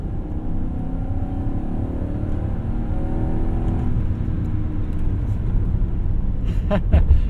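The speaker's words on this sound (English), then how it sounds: "There's so much thrust in second gear." A 1998 BMW 740iL with a V8 engine pulls hard in second gear, a loud steady interior drone whose pitch climbs and levels off over several seconds, heard from inside the cabin without talk.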